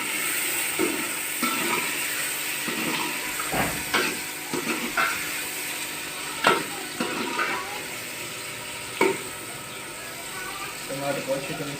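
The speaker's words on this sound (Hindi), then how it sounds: "टमाटर को अच्छी तरह से भून लेना है।" Tomatoes and onions frying with turmeric, chilli and garam masala in a pan, a steady close sizzle broken by repeated stirring scrapes and clinks of a spoon.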